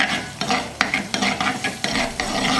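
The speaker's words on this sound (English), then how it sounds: "Now we'll saute everything." Sliced ginger, garlic and cardamom sauté in a pan for Kerala fish molee, rhythmic spoon strokes scraping through a steady sizzle, close and without talk.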